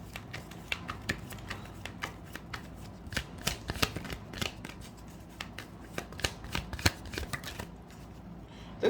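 Tarot cards are shuffled by hand, a quick irregular series of soft riffling slaps and flicks, close and fairly quiet, with no voice.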